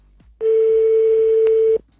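A single steady telephone tone sounds for about a second and a half while a call is placed to a Decathlon store, loud and clean, with faint ticking clicks before and after it.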